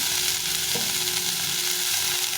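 Catfish pieces seasoned with salt and turmeric sizzle steadily in a hot pan, a close, continuous crackling frying sound with no break.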